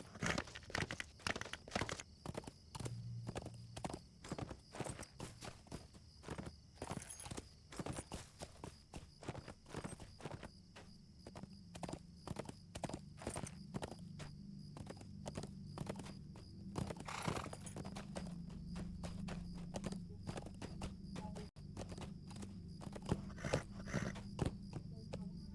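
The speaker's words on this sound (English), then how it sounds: "We'll go ahead and mount on my war steed." Hooves of a war steed clip-clop in a rapid, steady galloping rhythm across a video game landscape in LOTRO, close and continuous, with a brief whinny and faint talk in places.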